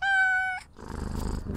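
A cat in the video game We Harvest Shadows gives a short, loud, tonal meow, then breaks into a soft, close purr that rumbles steadily for about a second.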